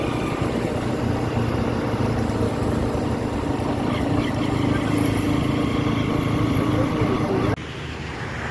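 A vehicle drives along a road toward a market, its engine drone and road rumble steady and close for several seconds before cutting off abruptly near the end, with a quieter hum continuing after.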